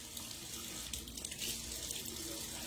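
Tap water runs steadily into a bathroom sink as a steady, close hiss with a faint low hum underneath, and nobody speaks.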